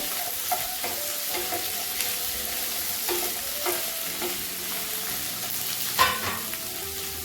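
Onions sauté in a pan for a country chicken fry, with a steady close sizzle broken by repeated scraping and clacking spatula strokes at an unhurried rhythm, no talking.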